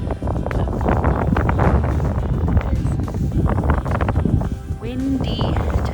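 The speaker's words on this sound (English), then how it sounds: "Windy today." Strong wind buffets the microphone outdoors on a sheep farm, a steady roaring rush throughout, with a few faint animal calls near the end.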